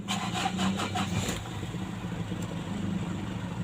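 A 2006 first-generation Ford Everest TDI automatic 2WD diesel engine is started, giving a few quick rhythmic pulses before settling into a steady, fairly quiet low idle rumble.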